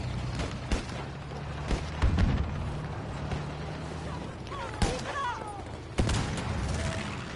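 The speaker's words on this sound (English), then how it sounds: "They're mortaring it." Battlefield V combat with mortar fire rolls on through scattered gunshots and several heavier booming blasts at irregular intervals, some near and some distant, while players talk over the action.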